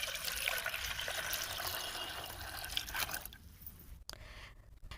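Running water pours and splashes steadily over cut cauliflower being washed for several seconds, thinning out near the end with a few quieter drips and gaps.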